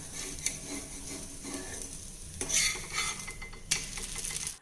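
Green dosa scraped and lifted off a hot pan with a metal spatula, soft sizzling under a few sharp scraping clinks, close and without talk.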